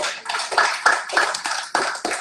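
A church congregation claps in a slow, even rhythm, with about eight distinct claps, fairly near and moderately loud, and no one talking.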